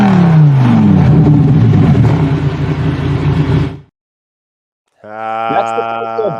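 Lamborghini engine in the Wilder World metaverse, a loud throaty rev with a falling pitch that cuts to silence, then a harmonic, horn-like tone resumes.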